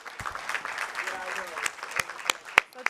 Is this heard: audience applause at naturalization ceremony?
yes